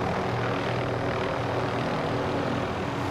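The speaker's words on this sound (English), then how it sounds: "stay in this chopper till the end" A helicopter in flight in the video game Call of Duty Modern Warfare, a dense, loud, continuous rotor and engine drone with a low, rhythmic thrum filling the whole stretch, with no voices.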